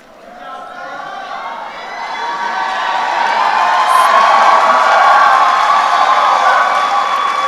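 A commencement crowd at a College of Education spring graduation breaks into sustained applause mixed with cheering and whoops, swelling from a quieter start into a loud, dense roar that holds steady.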